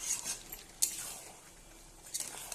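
A utensil stirs and scrapes mutton curry in a pan. Brief metallic scrapes and clinks sit over a low background with no talking.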